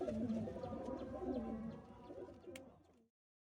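Domestic pigeons with clipped wings coo softly and repeatedly at close range, overlapping low throaty calls that fade out at the end.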